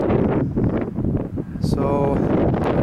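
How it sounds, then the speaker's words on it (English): Wind gusting steadily across a microphone on a windy high spot, a continuous rumbling roar that stays loud throughout, with someone speaking over it. "once again it is windy up here"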